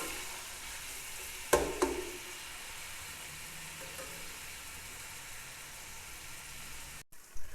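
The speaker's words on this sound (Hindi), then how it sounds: "1 बड़ी प्याज बारीक कटी हुई है, ये इसमें डाल देंगे और उसे मिक्स करेंगे" Finely chopped onion fries in a pot for chicken pulao, a steady close sizzle broken by a couple of brief spoon clinks and scrapes as it is stirred.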